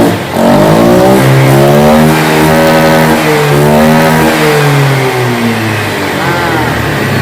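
A Honda PCX 160 scooter engine revs up hard and loud after flood damage, its pitch climbing and dipping through several throttle blips, close by with no talking.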